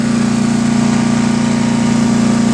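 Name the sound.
DR 208cc chipper shredder engine running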